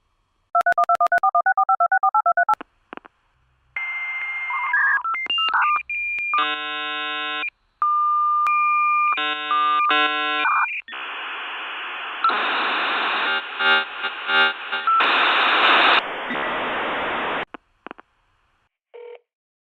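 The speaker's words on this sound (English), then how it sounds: "A number is dialed and we hear the sound of a modem handshake." A telephone number keyed in as a quick series of DTMF tones, followed by a dial-up modem handshake of pure tones, chirps, bongs and hissing static bursts. Loud and close, with no talking.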